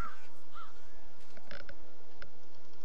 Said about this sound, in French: Ah, bah, les corbeaux, tu m'étonnes.